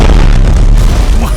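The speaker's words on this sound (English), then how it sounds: "Finally, we get to use our guns." Heavy naval guns firing in the Pacific war strategy game Strategic Mind: The Pacific, a loud close booming blast with a rumbling low tail lasting over a second.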